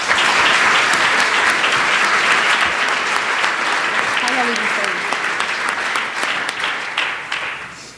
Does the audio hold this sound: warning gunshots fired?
no